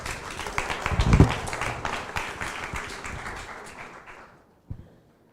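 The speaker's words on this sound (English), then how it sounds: "Another round of applause, please." Audience applause for a panel at a conference session on digital-era influence in Tallinn, a steady patter of clapping that swells briefly, then fades out, with one last isolated clap near the end.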